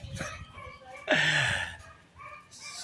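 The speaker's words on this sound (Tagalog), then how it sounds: "Yan po yung aso namin guys." A family dog gives one loud, close bark, ringing on for about half a second, with faint background sounds around it and a brief hiss near the end.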